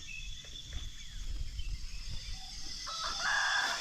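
A rooster crows once at close range, a drawn-out call standing clear against a quiet rural backdrop with faint insect noise and a low rumble underneath.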